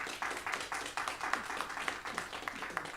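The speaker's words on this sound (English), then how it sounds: "Do me a favor and hold your applause" Audience applause fills a planning commission meeting room, a steady spread of many hands clapping at moderate loudness with no single standout claps.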